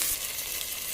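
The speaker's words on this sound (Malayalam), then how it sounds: "നല്ലോണം വഴറ്റിയെടുക്കട്ടെ" Vegetables sauté in hot coconut oil in a pan, making a brief, even, moderately quiet sizzle with no pauses.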